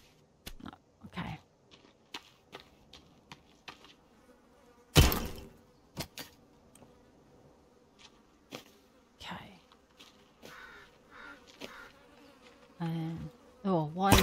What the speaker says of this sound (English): Oh, why is there flies buzzing?